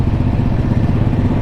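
A TVS Apache RTR 200 4V motorcycle, a 2021 BS6 model, cruises on a highway carrying a pillion rider. Its engine drones loud and steady, with constant road and wind rumble close to the mic.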